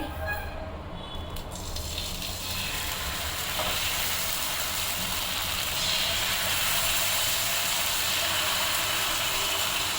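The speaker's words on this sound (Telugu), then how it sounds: "ఇప్పుడు దోశ వేసుకుందామండి" Bottle gourd dosa batter meets a hot pan and builds into a loud, continuous steamy hiss that swells after a couple of seconds and holds steady to the end.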